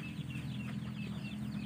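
Chickens cluck in a steady stream of close, moderately loud calls over a low, constant hum, with no speech.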